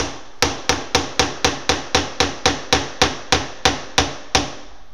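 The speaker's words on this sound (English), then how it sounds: "I'm using the small hammer" A small hammer taps tiny nails into wooden molding, about fourteen crisp, evenly spaced strikes close up, with no talk.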